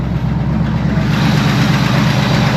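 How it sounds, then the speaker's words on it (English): Pontiac Grand LeMans engine idling a little high, a steady loud close-up idle drone with a slight uneven pulse, running alone without talk. "So she's idling a bit high now"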